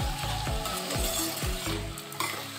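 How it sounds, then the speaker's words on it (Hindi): Potatoes and peas fry in a pan for upma, a steady close sizzle running under rhythmic scraping stirs of a spatula, about four strokes, against a faint background hum. "बस इनको थोड़ी देर फ्राई करेंगे और आलू को गलने देंगे।"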